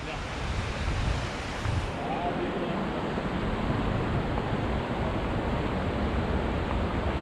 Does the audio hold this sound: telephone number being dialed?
no